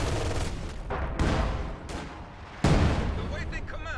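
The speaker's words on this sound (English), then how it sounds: "High explosive barrage prevents the Fusiliers from taking it." High explosive artillery barrage in a strategy war game, a series of heavy booming impacts arriving every second or so, each with a sharp onset and rumbling decay, under a steady background of battle noise.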